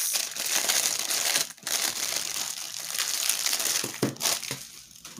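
Plastic packaging for a set of twenty washi tape rolls crinkles and crumples steadily as a bag is opened and handled up close, with a brief pause midway and no speech.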